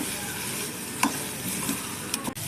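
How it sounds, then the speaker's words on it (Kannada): Sliced onions fry in a pan for a black chana usuli, a steady close sizzle with occasional spatula scrapes and taps against the pan, no talking. "ಈರುಳ್ಳಿ ಹಸಿ ವಾಸನೆ ಹೋಗೋವರೆಗೂ ಫ್ರೈ ಮಾಡ್ಕೊಳ್ಳಿ"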